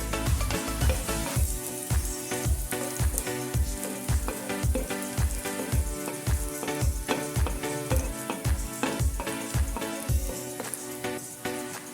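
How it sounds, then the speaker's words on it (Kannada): Chopped garlic and curry leaves fry in oil in a pan with a steady, loud sizzle, while sharp, regular clicks and thumps of stirring repeat roughly every half second over it; no one speaks. "ಚಿಕ್ಕದಾಗಿ ಕಟ್ ಮಾಡಿರುವಂಥ ಬೆಳ್ಳುಳ್ಳಿ, ಕರಿಬೇವಿನ ಸೊಪ್ಪನ್ನು ಹಾಕಿ ಸ್ವಲ್ಪ ಹುರಿದುಕೊಳ್ಳಿ"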